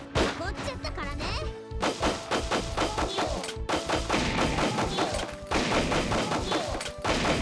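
Gunfire and smashing debris as a house is torn apart in the video game The Maid and Machine Gun: rapid volleys of shots mixed with heavy thuds and crashes, fairly loud and nearly constant.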